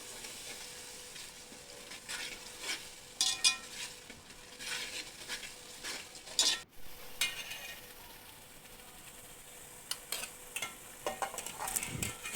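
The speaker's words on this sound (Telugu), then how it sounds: "ఇప్పుడు సరిపడంత కారం, ఉప్పు, పసుపు వేసుకొని కలుపుకోవాలి." Chili powder, salt and turmeric are stirred into a fish curry in a pan, with a low steady sizzle broken by occasional utensil scrapes and clinks against the pot, fairly quiet and without speech.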